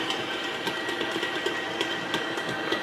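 Bread dough for a boule and demi baguettes slaps rhythmically inside a running stand mixer, with a steady mechanical whir beneath the repeated soft thumps.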